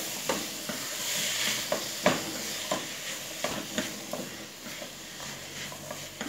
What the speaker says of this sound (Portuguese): Deixar refogar agora a carne com a cebola e o alho.